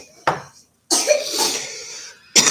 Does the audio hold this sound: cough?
yes